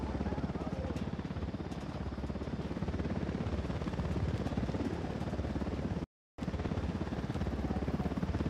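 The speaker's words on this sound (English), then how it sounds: "Hit the dirt, helicopter." A helicopter flies overhead in Ghost Recon Wildlands, its steady loud rotor chop and engine wash filling the scene for several seconds, broken once by a brief dropout before resuming at the same level.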